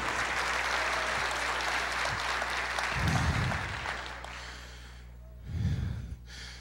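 A church congregation applauding, with steady, dense clapping filling the room throughout, fading near the end, and a couple of low breathy bursts cutting through.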